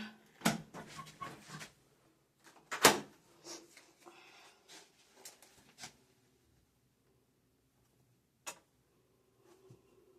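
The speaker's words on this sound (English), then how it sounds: "Let's lock the door." A door being locked: a run of close clicks, rattles and knocks from the lock and handle, then scattered fainter taps with quiet gaps between them.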